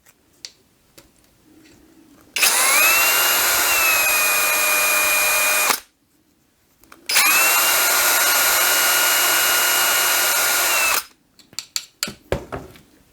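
A small power drill with a thin 1.5 mm bit whines at high pitch in two long bursts with a short pause between, drilling holes in a handmade ice-fishing lure, followed by light clicking and tapping.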